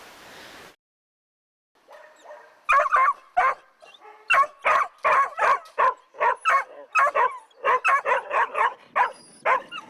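Dogs bark in an overcrowded animal shelter kennel, a rapid string of loud, close yaps and barks from several dogs overlapping after a short quiet opening.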